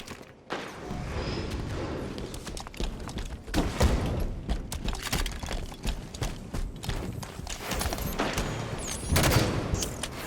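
Rapid gunfire and bursts of weapon shots in the Halo 5 video game on the Snowmound map, dense and continuous with louder volleys around the middle and end, no voices heard.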